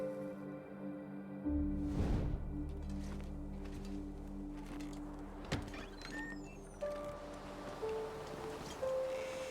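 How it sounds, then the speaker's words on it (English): Wind gusts whoosh steadily through a snowy wilderness in the survival game The Long Dark, rising in a strong surge early on and then blowing on as a continuous rushing roar. "So windy."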